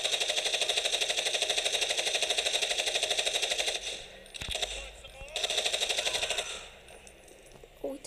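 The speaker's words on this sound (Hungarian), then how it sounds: "És lövöldözni kell." Rapid automatic gunfire in the game Gangstar Vegas, a loud steady rattle of shots that stops, briefly returns in a second burst, then gives way to quieter game sounds.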